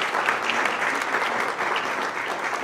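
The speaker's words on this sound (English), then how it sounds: "let's give a round of applause to Pioneer Academy as well" Audience applause at a high-level reception, welcoming visiting students from a New Jersey academy: steady, dense clapping from a sizable crowd that holds evenly through the whole stretch with no voices above it.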